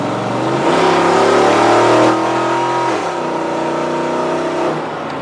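A 2001 GMC 2500HD pickup truck accelerating, its engine revving up loud and steady from inside or close by, with pitch rising and shifting through gears, no talk.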